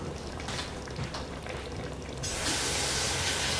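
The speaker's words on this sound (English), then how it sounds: "I'm gonna add a little more water to it." Hot water poured into a pot of Puerto Rican sancocho stew with meat, yuca and vegetables, a close rushing splash that swells louder and brighter partway through, with no talk.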